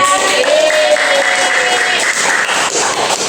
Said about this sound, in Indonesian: Kita beri tepuk tangan untuk Siska.